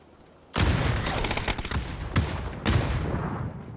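Close-range gunfire in a PUBG squad fight: a loud burst of rapid shots begins abruptly, followed by a sustained rattle of fire with two more sharp volleys, dense and without any talk.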